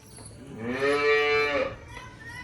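A single long, deep lowing moo from a nearby water buffalo rises and falls over about a second, with faint background noise around it.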